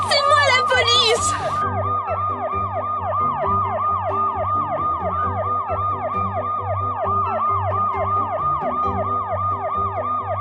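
A police siren wails in a steady repeating up-and-down sweep, loud and close, running continuously after a brief burst of voices at the start.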